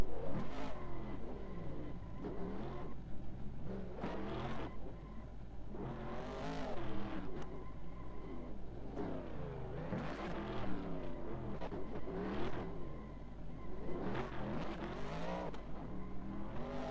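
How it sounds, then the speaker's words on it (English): A race car in a sim racing game accelerates and shifts on track during tyre warm-up, engine notes rising and falling in repeated revving sweeps at a moderate, steady level with no voices. "trying to warm up his tyres and get everything sorted"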